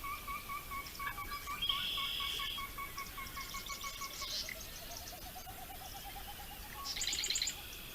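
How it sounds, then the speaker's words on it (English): Wetland birdsong soundscape with steady, sweet whistled calls and trills layered over a soft background hiss, plus brief hooting, owl-like notes and a bright chirping burst near the end. "Now, hopefully you'll be hearing a wonderful birdie soundscape."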